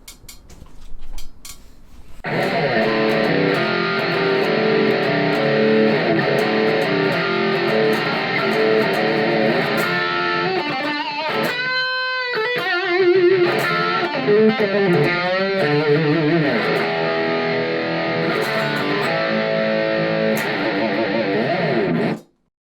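An electric guitar plays through an OD2 overdrive setting, sustained distorted chords ringing loudly and continuously with a brief choppy passage midway, then cutting off.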